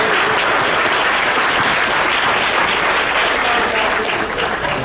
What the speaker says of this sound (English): Let's give these guys another big round of applause.